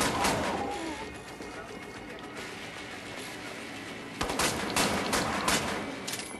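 Rapid automatic gunfire rattles in Wolfenstein: The New Order, a dense, loud burst of shots with crashing impacts that eases into a steadier stream, then another sharp volley of shots.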